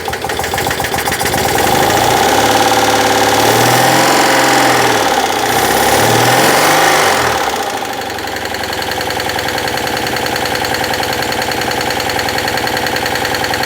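A Citroën 2CV two-cylinder engine idles steadily after an upgrade, with a slightly uneven, knocking beat suggesting valve clearances need adjusting, and a loud, constant drone throughout.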